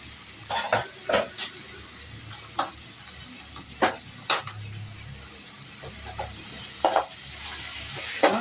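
Tomatoes sautéed for tomato rice, stirred in a pan: repeated sharp spatula scrapes and clinks against the metal over a soft, steady sizzle.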